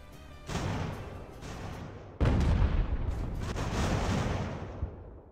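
Cannon fire in the naval strategy game Ultimate Admiral Age of Sail: a loud, heavy boom followed by a second, larger blast that rumbles on with sustained low roar and scattered distant reports, no voices.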